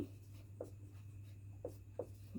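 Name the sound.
writing an answer by hand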